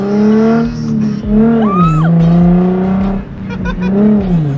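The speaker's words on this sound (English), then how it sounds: "this is like the first time we drive it out on the public streets legally" A Nissan GT-R drives on a public road, its engine a loud steady drone close by that rises and falls as the driver works the clutch and throttle, with brief squeaks and knocks from the cabin.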